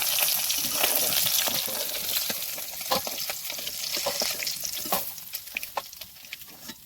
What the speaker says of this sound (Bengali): এরকম একে একে সব মাছগুলোকে ভেজে তুলে নেবো।